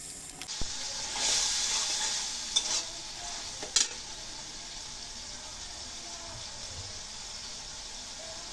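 A spice paste of ground onion, ginger and garlic with salt, turmeric, chilli, cumin and coriander powder sizzles softly in a pan for an egg korma, with a few brief scraping stirs early on, then a steady low hiss.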